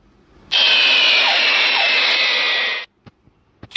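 A jet airplane engine roars loudly and steadily for a couple of seconds with a high whining hiss, then cuts off abruptly, followed by a few faint clicks.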